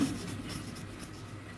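Pen or pencil scratches across paper while the number 290 is written during a maths lesson, a quiet close soft rasp with short strokes and no voices.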